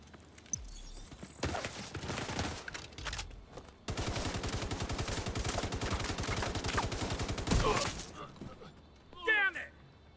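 Sustained automatic gunfire in a video game firefight, rapid dense bursts running several seconds alongside scattered single shots and a voice speaking over the shooting.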